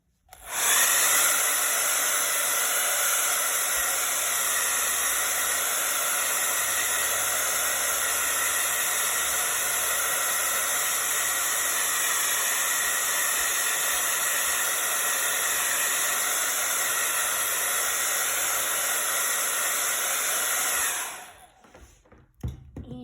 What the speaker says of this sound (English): Again with the blow dryer, sorry.